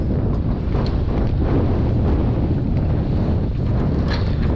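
Steady, heavy wind buffeting a microphone outdoors while fishing in bad weather, a dense low rumble with gusty swells throughout and no voices.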